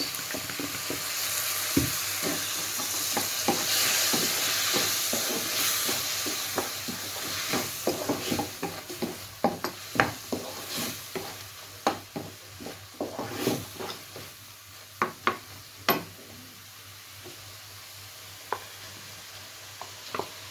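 Egg fried rice with chicken sizzles steadily in a hot pan while a spatula stirs and scrapes in quick irregular clacks, with sauces like chili sauce, vinegar and soy sauce added; the sizzle fades slightly as the sharp stirring knocks continue, no voices.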